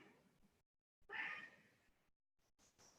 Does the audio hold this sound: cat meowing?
yes